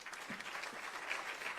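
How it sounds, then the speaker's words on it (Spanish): Church congregation applauding together, a steady dense wash of clapping that holds evenly throughout, moderately distant and with no voices standing out. "Un aplauso fuerte al Señor."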